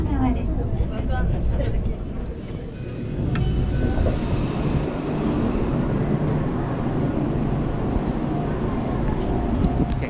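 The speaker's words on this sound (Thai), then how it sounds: "รถไฟมาพอดีเลย" A rumbling train pulls into Hase Station in Kamakura, Kanagawa, Japan, with a low continuous roar of wheels and engine and faint squeals over a loud mechanical drone.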